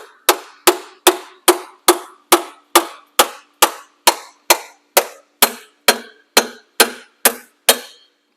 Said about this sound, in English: we should be able to take our trusty Milwaukee hammer